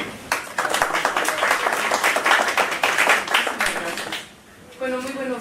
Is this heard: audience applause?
yes